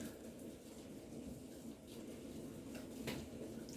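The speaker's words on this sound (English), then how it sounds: "I don't know if you can hear the rain starting off again." Heavy rain of a sudden cloudburst falls outdoors, a soft steady hiss of drops with faint patter, fairly quiet and continuous, with no voices.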